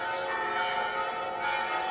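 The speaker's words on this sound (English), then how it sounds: "The bells say it's 12 o'clock." Church bells of the Riga Dome Cathedral ring out at noon over the old town, a steady wash of bell tone filling the whole span with faint ambient noise beneath.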